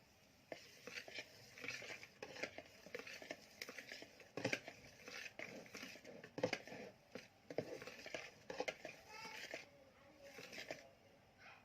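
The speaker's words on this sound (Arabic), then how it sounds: "وابتدي اقلب برضو بالراحه" Sponge cake batter being folded gently by hand, heard as soft irregular scraping and patting strokes with occasional light clinks of a utensil against a bowl, close and moderately quiet, with no talking.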